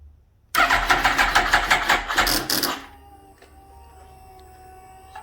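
A 2008 Kawasaki ZX10R motorcycle with a dead battery: a loud, close starter grinds in rapid, uneven pulses for about two seconds without catching, then cuts out, leaving a faint hum.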